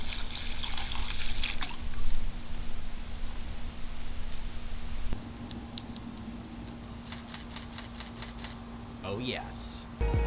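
Water, close to 32 ounces, trickling and splashing over a Nikon D750 camera body, a steady close patter with a soft hiss that thins out partway through and ends in a brief splash.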